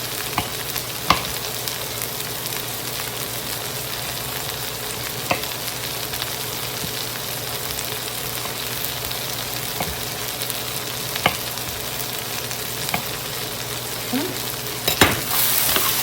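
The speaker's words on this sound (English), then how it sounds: "Always watching and stirring. I want to make sure everything kind of gets somewhat cooked here a little bit." Chunks of garden vegetables fry in a pan with a constant hissing sizzle. Occasional clacks of a utensil stirring against the pan cut through it.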